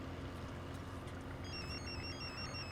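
A telephone rings in a Tamil drama scene, its electronic ringtone tones entering halfway through, faint and steady above a busy background bed.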